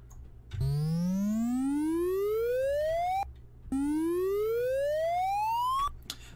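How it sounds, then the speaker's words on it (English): With its sweep set to positive, an 8-bit synthesizer note bends steadily upward in pitch. It plays twice as long rising glides with a short gap between, loud and with no other sound. "so that makes our note bend upward"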